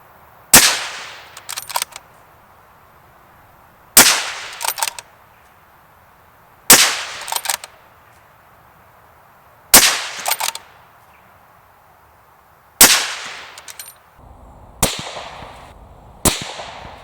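A CZ 600 MDT rifle chambered in .308 fires about six loud, sharp shots, roughly three seconds apart, each followed by a brief metallic clatter of the action being worked.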